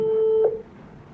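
A telephone call tone: a steady electronic beep held for about half a second, then cut off, leaving faint background hiss.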